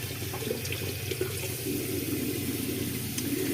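Sink tap running steadily while something is rinsed off, a continuous close splashing stream of water with faint small knocks and no voices.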